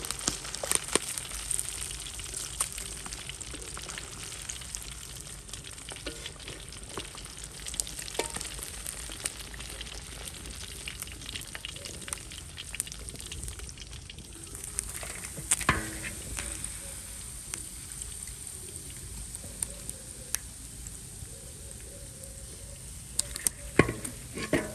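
Fried fish pieces being lifted out of hot oil with a spoon at a village kitchen, a continuous faint crackling sizzle with occasional scrapes and clinks over about twenty-five seconds, no talking.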